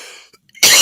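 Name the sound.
coughing fit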